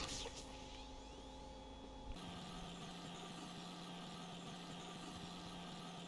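A base power generator in the Subsistence video game kicks on about two seconds in. A faint whir suddenly gives way to a steady, low engine hum that keeps droning quietly to the end.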